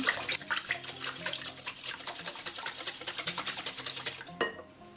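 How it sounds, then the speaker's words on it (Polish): A whisk beating a pancake dough mixture with a whole egg in a bowl, a rapid, rhythmic clatter of quick strokes, close and steady, breaking off just before the end. "Najpierw mieszamy ją z jajkiem jednym całym. Najlepiej trzepaczką."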